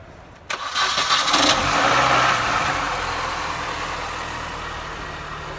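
A car engine, jump-started with a NOCO GB150 Genius Boost Pro lithium jump starter, cranks briefly with a sharp catch, then settles into a steady, close idle that gradually quiets.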